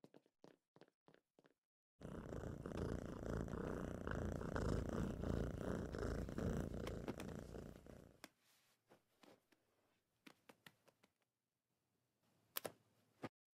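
A cartoon cat purring in a Family Guy scene, a loud rumbling purr lasting several seconds, framed by short clicks before and sparse sounds after.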